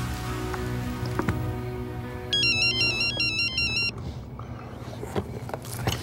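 A phone ringtone plays a bright repeating electronic melody for a couple of seconds amid a soft, rain-like background patter, with no talking over it.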